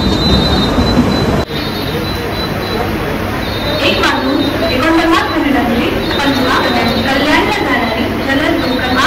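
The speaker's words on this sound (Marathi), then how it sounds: "छत्रपति शिवाजी महाराज टर्मिनस जाने वाली तेज लोकल है क्रमांक दो पर आई हुई लोकल" A fast Mumbai local train at platform two of a busy station, a loud continuous rumble of wheels and carriages with a high squeal running through it, while a public-address announcement carries over the din.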